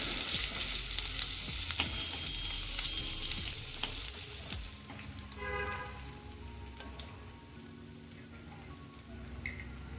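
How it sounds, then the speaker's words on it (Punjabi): Cumin seeds with finely chopped ginger and garlic roast in hot oil, a loud, close, crackling sizzle that holds steady and eases slightly toward the end, with a few faint utensil clinks. "ਤੇਲ ਦੇ ਵਿੱਚ ਜੀਰੇ ਨੂੰ ਪਾ ਦਵਾਂਗੇ ਅੱਧਾ ਚਮਚਾ ਅਦਰਕ ਤੇ ਲਸਣ ਬਰੀਕ ਕੱਟਿਆ ਇਹ ਪਾ ਦਵਾਂਗੇ ਜੀਰੇ ਦੇ ਵਿੱਚ 2 ਮਿੰਟ ਵਾਸਤੇ ਇਹਨੂੰ ਭੁੰਨ ਲਵਾਂਗੇ"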